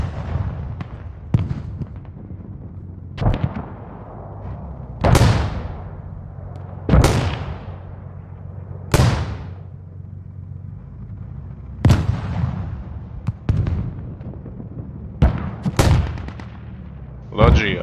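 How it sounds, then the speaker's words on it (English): Mortar rounds fire and impact in the video game Squad. Heavy booming blasts come roughly every two seconds, some loud and close and others duller and more distant, with radio-style voices talking between them. "Very good hits on mortar."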